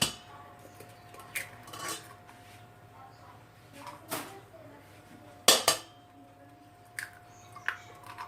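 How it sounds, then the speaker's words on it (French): Eggs cracked against a bowl for a custard flan cake, a few sharp clinks and taps spread across a quiet kitchen, with soft handling noises between them and no talking. "Donc je vais casser"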